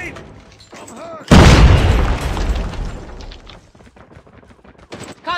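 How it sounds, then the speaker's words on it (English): A grenade explodes in the video game COD Mobile with a sudden heavy boom and a long rumbling decay, surrounded by in-game voice callouts. "Grenade."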